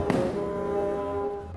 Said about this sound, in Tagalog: eto naman yung papaputokin nila kung tawagin King Kong